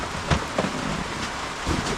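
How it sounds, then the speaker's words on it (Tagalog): Rain falls outdoors at a rural spot where a cobra is being handled, making a steady broadband hiss with a few louder gusts or drips, and no voices are heard. "Parang umuulan. Tapos umuulan pa."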